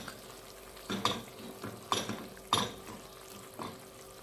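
Instant coconut milk is stirred into a papaya flower stew with a spoon, giving four or five distinct scraping clinks against the pot over a faint, steady simmer.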